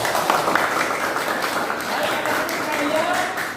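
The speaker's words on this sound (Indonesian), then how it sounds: "Tepuk tangan untuk kelompok." Students in a classroom clap together, a steady moderate patter of many hands with voices mixing in beneath it.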